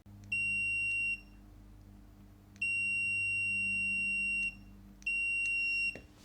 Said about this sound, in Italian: Se io scorro, lo possiamo usare come cicalino